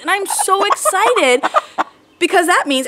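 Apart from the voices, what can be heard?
chickens clucking in the background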